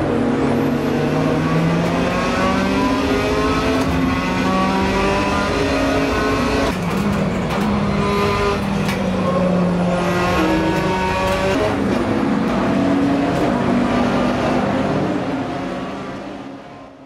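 A racing car engine in a racing video game revs loudly and continuously, its pitch rising and falling through gear changes, with a possible brief tire squeal.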